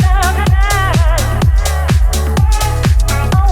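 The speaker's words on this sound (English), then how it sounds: "you want to go to the loudest point of your track where the bass and the kick is going full throttle" A house track plays at its loudest section, with a heavy bass line under punchy kick drums. The kicks land in a steady four-on-the-floor pulse, roughly twice a second, dense and loud throughout with no voices.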